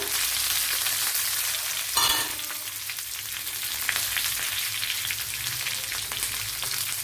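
Dried red chillies sizzle steadily in hot oil, a tempering for green mango pulissery. The hiss is loud and continuous, with a brief sharper burst of crackle near the start.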